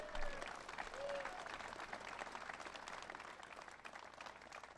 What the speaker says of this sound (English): Let's give another round of applause for Governor Shapiro.